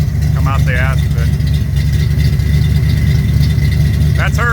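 A 1975 Ford F-250 Highboy pickup engine runs steadily at a loud, close idle, its deep rumble constant throughout while someone talks briefly over it near the start and end.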